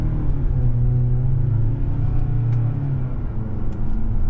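2025 Mazda CX-70 Premium Plus PHEV engine in sport mode with the 8-speed automatic, a close, steady cabin rumble with a humming engine tone that rises slightly and holds.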